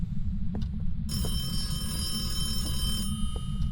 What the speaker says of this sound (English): that phone rang